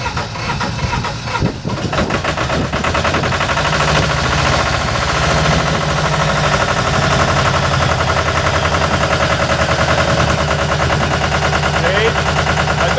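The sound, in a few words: brush fire truck engine starting and running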